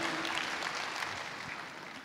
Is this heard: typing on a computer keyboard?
no